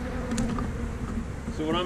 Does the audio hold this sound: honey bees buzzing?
yes